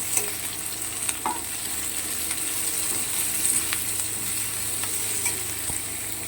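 Chopped capsicum and other ingredients for bisi bele bath fry and sizzle steadily in a pan, with occasional stirring scrapes and small clinks over a constant hiss and low kitchen hum.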